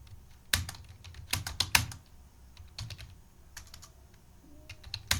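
Keys on a computer keyboard clatter in quick bursts of close, crisp taps with short pauses between, as a bank name is typed into accounting software.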